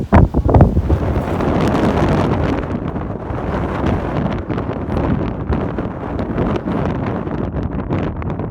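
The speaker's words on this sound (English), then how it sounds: "A bit windy." Strong wind buffets the microphone at an outdoor British Eventing horse trials near the show jumping, a loud, continuous roaring gust with turbulent rumble, no voices.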